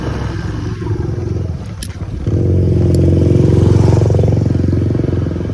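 A motorcycle engine idles and then revs up as the bike pulls away near a home gate, a steady loud rumble that grows and holds after a brief clatter.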